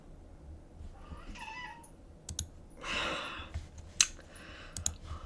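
A pet cat meows indoors, a short mew early on and a longer, louder cry in the middle, with scattered sharp clicks around it in a quiet room.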